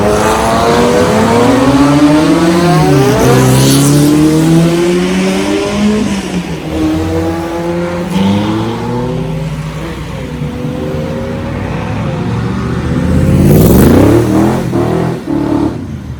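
Sports cars at a Place Vauban car meet in Paris, including a Ferrari F40 and a Cobra, revving loudly and pulling away one after another, engines rising in pitch close by and receding.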